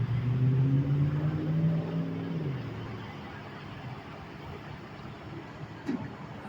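A car pulls away from a wrecked gas station forecourt, its engine rising in pitch over the first two seconds before fading into a low, steady rumble.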